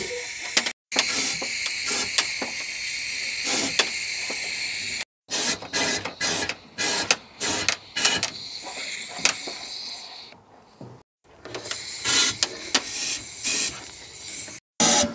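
Protective coating sprayed into the rear wheel arch of a Smart Fortwo 450: loud, close hissing bursts of aerosol spray, repeated with short pauses between them, no voices.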